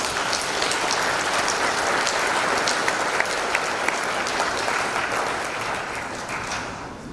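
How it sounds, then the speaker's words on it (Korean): An audience at a national pastors' and elders' prayer gathering claps together in thanks to church volunteers, a dense, steady roar of many hands that fades slightly toward the end, with no voices on top. "우리 박수로 한번"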